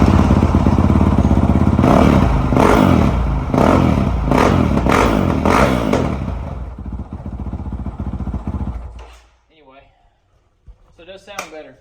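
A Honda 450L motorcycle revving with its exhaust insert removed, loud and close with repeated throttle blips over a rough idle that fades out, followed by brief talking at the end.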